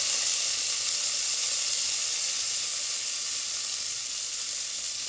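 Cumin, fenugreek, dried chillies and curry leaves sizzling in hot oil, a loud, continuous, even hiss held steadily throughout, close up with no voices.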